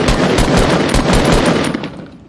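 Rapid bursts of automatic gunfire from a video game firefight, loud and close, firing in a fast continuous rattle that fades off toward the end.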